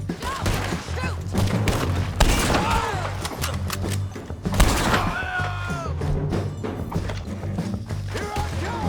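Gunfire in the video game Red Dead Redemption 2 during a bounty-hunting fight, with repeated sharp shots and impacts at an irregular pace over a continuous low game background, and voices shouting now and then.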